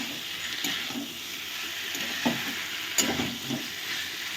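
Potato and cauliflower sautéing with spices for a fish curry, a soft continuous sizzle with a few sharp scrapes of stirring, moderately near and alone.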